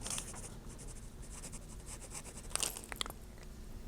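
A new fine-point pen scratches across old scrap paper in short, quiet strokes with brief pauses, close up and alone.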